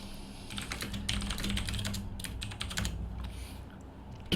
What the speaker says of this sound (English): I can hear that typing.